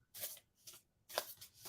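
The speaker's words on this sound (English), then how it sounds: "because I can obviously shuffle them" A deck of playing cards shuffled by hand, heard as three quick riffling bursts of papery flutter, close and fairly quiet, separated by short pauses.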